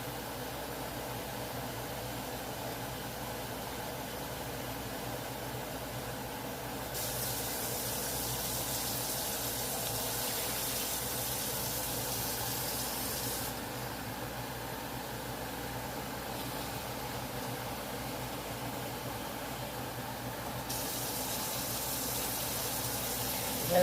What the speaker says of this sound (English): Now I begin to add my water as I need it.